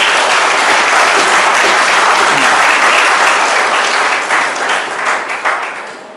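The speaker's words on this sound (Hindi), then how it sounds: "थोड़ी तालियां जोर से बजाइए" Loud, thick applause from young NSS volunteers gathered at a plantation drive event, sustained at full strength before thinning into scattered claps near the end.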